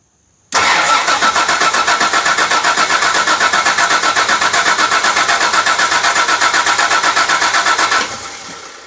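A 1985 Jaguar XJ6 engine on starter fluid cranks loudly and up close with a rapid, rhythmic starter churn for about seven and a half seconds, then stops abruptly, leaving a fainter tail.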